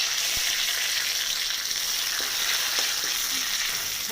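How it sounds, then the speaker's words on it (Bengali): Broken dried chillies, bay leaf, cinnamon and cardamom fry gently in ghee for basanti pulao, giving a steady, close, dense sizzle that runs unbroken throughout with a few faint ticks. "দারচিনি এলাচ তিনটেই দিয়ে দেবো, দিয়ে হালকা ফ্রাই করে নেব।"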